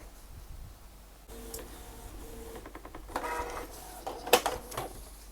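A Canon Pixma ink tank inkjet printer running quietly, with soft mechanical whirs, clicks and brief motor buzzes as it feeds and prints a page, ending in a sharper clatter.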